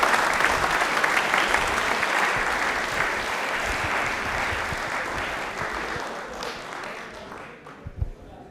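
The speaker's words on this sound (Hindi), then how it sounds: "आप एक बार तालियां इनके लिए बजा दीजिए जोरदार वाली।" A studio audience at a Rajasthani TV quiz show gives a quiz contestant a burst of loud, dense applause that gradually thins and fades toward the end, leaving a few scattered claps.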